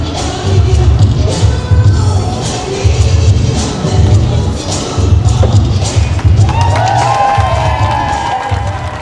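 A gallery crowd at the unveiling of a giant Anubis statue at a Tutankhamun exhibition cheers and claps, with steady thumping beats and scattered shouts running beneath the loud, lively noise.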